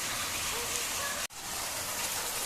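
Rain falling in Dehradun, a steady close hiss of drops on surfaces, briefly cut off for an instant midway before resuming, with faint voices underneath.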